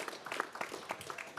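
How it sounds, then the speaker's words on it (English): A crowd applauds briefly with dense, scattered clapping at moderate volume, heard from a short distance in a room. "Give him a round of applause, please."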